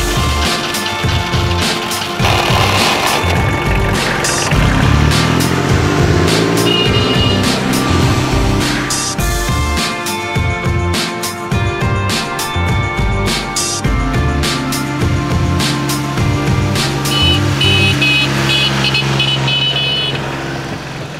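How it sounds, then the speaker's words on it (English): A tractor reversing, its engine running loud and steady throughout with tonal hooting or beeping and rumbling mechanical noise layered on top. "Reverse tractor for them."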